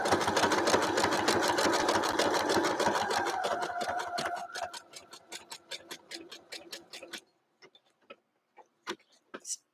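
A sewing machine straight-stitches lace onto fabric with a steady, rapid, close mechanical whir, slowing to a few spaced individual stitches and faint clicks before stopping.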